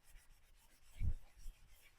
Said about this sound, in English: green scrubbing pad.